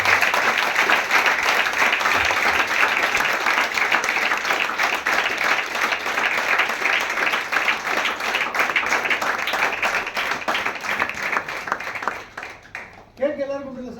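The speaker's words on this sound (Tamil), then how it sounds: "ஒரு பெரிய big round of applause." A crowd at a Vestige 20th anniversary celebration applauds in dense, sustained clapping for about twelve seconds before it tapers off and a voice begins speaking.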